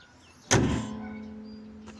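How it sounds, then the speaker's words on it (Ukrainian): A Toyota Camry 30 V6 3.0 hood slams shut in one sharp, loud metallic thud, followed by a ringing tone that fades slowly. "Капот закривається, як всі знають, в Тойоті як в зілах, ось таким звуком."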